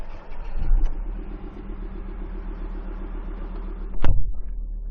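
A 2016 Ford Ranger engine cranks and catches, then settles into a steady, even idle with a low rumble, up close, followed by a short sharp click and a brief rise.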